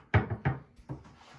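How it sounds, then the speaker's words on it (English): A few quick wooden knocks and clatters as cabinet doors are handled and taken off, close by, in short separate bursts. "what we're doing now is removing all the cabinet doors"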